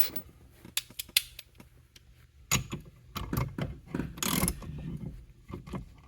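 A ratchet with a socket tightens a steering wheel nut on a 3rd-gen Camaro or Firebird, giving quiet, close clicks that come in short irregular runs, with soft handling noises between them.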